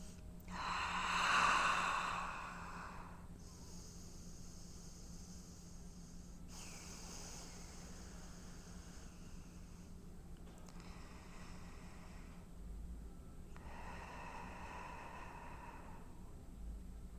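Slow, deep breaths during a yoga standing-balance flow, each long inhale and exhale soft and close, separated by quiet pauses.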